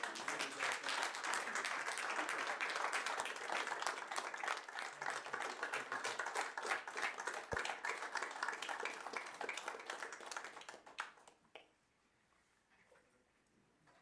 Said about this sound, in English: please join me by applauding all these remarkable individuals for their tireless dedication to the Blackfalds Fire Department and our community